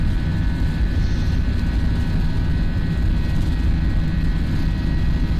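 A British Airways Airbus A319 takes off in a flight simulator, giving a loud, steady engine roar that stays constant throughout with no talk.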